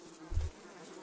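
A brief, low buzz of bees from a wild swarm swells and fades over a soft, steady background hum, with no voices.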